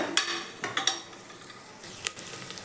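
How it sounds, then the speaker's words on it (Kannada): Field beans fry in a pressure cooker for a palya, a faint low sizzle under sharp, irregular spatula clicks and scrapes against the metal, heard close with no talking. "ನಾನು ಈ ರೀತಿ ಕುಕ್ಕರಲ್ಲೇ ನೀಟಾಗಿ ಫ್ರೈ ಮಾಡ್ಕೊಳ್ತಾ ಇದ್ದೀನಿ"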